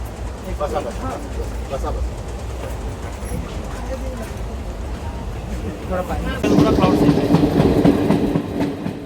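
A passenger train carrying pilgrims on a yatra to Jagannath Puri rumbles along steadily, its wheel clatter swelling noticeably louder toward the end, with people talking and chanting over the train noise throughout.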